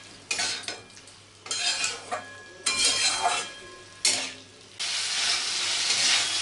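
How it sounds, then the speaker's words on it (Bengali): Potato and broccoli stirred into a spice masala in a pan: separate scraping stirs, each a few seconds long, over a steady frying sizzle that carries on to the end. Pan and utensil clatter is close. No one speaks. "এবার মশলার সাথে আলু আর ব্রকোলি দুটোকে ভালো করে কষিয়ে নেব।"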